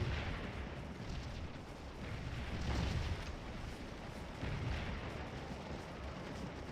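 Artillery fire in the Civil War game Scourge of War at the Battle of Stones River: a continuous rumbling roar of distant cannon booms blending together, faint and steady throughout.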